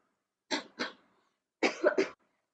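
Two bursts of coughing, a pair of short coughs followed after a pause by a quicker cluster of three, close and distinct.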